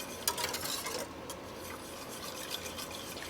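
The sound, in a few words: whisking apple cider vinegar into bean mixture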